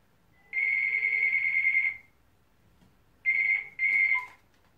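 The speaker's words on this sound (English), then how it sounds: "So here we have a mobile phone used to call people wirelessly. Let's see if it works. It's calling now" A mobile phone rings with an electronic tone: one long sustained burst, a pause, then two shorter bursts close together, clear and near against a quiet room.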